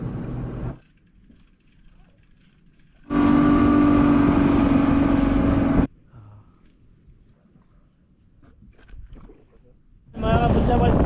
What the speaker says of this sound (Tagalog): na smooth pa rin tunog ng makina eh, no?